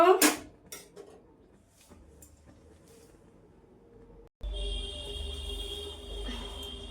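Grape chutney being served, with a burst of clinking dishes and a spoon knocking against them at the start, then quieter scrapes, ending in a steady low hum.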